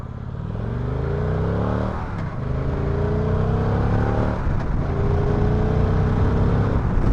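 A 2016 Victory Cross Country motorcycle accelerating hard from a standstill to 60, its engine note climbing steadily through two clear gear shifts, loud and close throughout with wind roar underneath.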